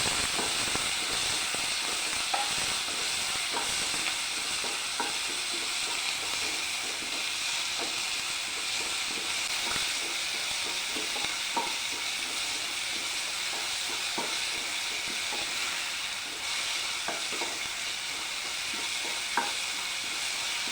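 Green chillies and tomatoes sauté in a pan for a chickpea curry, giving a steady, close oil sizzle and hiss for the whole stretch, broken by scattered light scrapes and taps of a stirring spoon.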